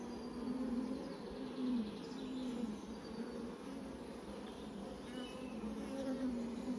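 Honeybees in an opened hive during an inspection, a faint, steady buzzing drone with slight wavering pitch, close and continuous.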